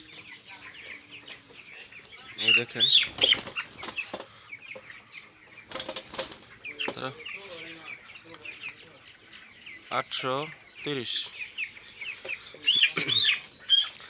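Nineteen-day-old broiler chickens cluck and squawk in short bursts close by, with quieter murmuring between, while someone speaks briefly over them.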